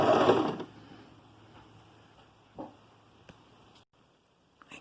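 A sewing machine runs a short burst stitching the seam of a soft knit fabric cuff for a child's pants, then falls quiet, leaving faint clicks and handling noises close by.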